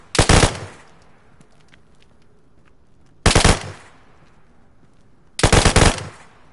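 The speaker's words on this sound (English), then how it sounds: "Have you ever shot a gun in DayZ before?" Three loud bursts of rapid automatic gunfire from the video game DayZ, each lasting under a second and separated by a few seconds of quiet room hiss.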